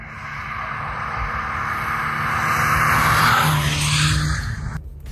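A Toyota GR86 sports car takes a turn, engine note rising and sustained with tyre scrub building to a peak midway before easing off, close and loud with no talk.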